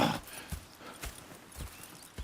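Horses in the video game Red Dead Redemption 2 walk at an even pace, about five close, crisp hoofbeats clip-clopping in a regular rhythm with no talk.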